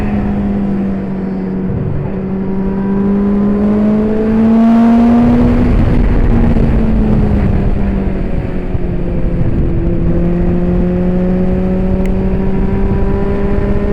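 A racing sidecar motorcycle at Barber circuit during AHRMA practice, engine held at full throttle with a loud, continuous harmonic drone that rises and falls in pitch as it pulls through corners and up a hill.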